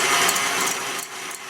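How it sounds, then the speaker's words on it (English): An electric mixer whirs steadily at medium-high speed, whisking room-temperature egg whites in a mixing bowl, with a loud, continuous motor drone that eases off slightly near the end. "put it into your mixing bowl, and then we're going to whisk that at a medium-high speed"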